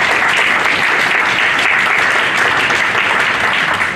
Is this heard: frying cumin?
no